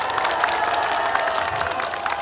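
A crowd at a memorial ceremony applauds steadily and densely, a sustained wash of clapping that holds at an even level from start to finish, with no talking.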